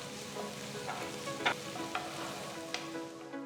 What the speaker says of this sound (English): Saute the onions for about 2 to 3 minutes.